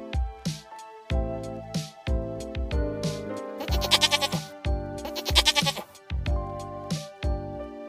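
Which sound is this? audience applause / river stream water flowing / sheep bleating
sheep bleating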